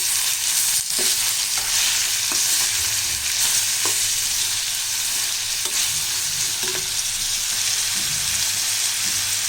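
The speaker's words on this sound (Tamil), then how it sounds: "இதிலே வந்து நம்ம நசுக்கி வச்ச பூண்டு சேர்த்துக்கலாம் கருவேப்பிலை இப்போ பொடியாக அரிஞ்சு வச்ச தக்காளி இதையும் நல்லா வதக்கிக்கலாம்" Chopped tomatoes, crushed garlic and curry leaves sautéing in a pan for onion tomato thokku, a loud, dense, continuous sizzle with occasional light stirring clicks, heard close and alone.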